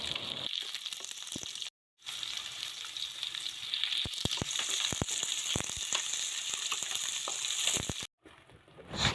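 Cut potatoes frying in a pan with onion and garlic, a steady close sizzle with scattered crackles and spatula scrapes from stirring, broken by two short silent gaps.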